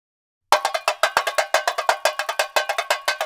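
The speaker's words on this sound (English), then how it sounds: "The tambourine is played like this." Tambourine in a Vila Isabel samba school pattern, a rapid string of bright, crisp metallic hits in a driving, steady rhythm, played solo and close.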